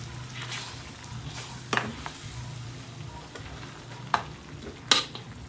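Boiled pork hock and vegetables for kare kare sauté in a pan with a steady sizzle, broken by a few sharp scrapes and clinks as the food is stirred.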